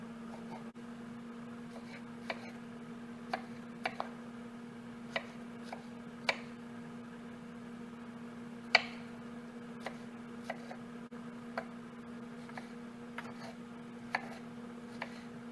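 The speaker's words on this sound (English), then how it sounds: "Just roughly chopping this up." A knife roughly chopping harvested eggplant on a cutting board, giving a steady run of sharp, fairly quiet close taps at an irregular pace over a constant low hum.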